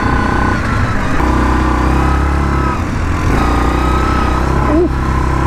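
A 2018 Yamaha Kodiak 450 ATV engine drones steadily while riding on a dusty trail, a loud continuous low hum with shifting pitch and a brief rise near the end, close to the microphone.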